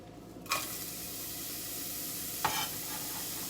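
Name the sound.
onions frying in pan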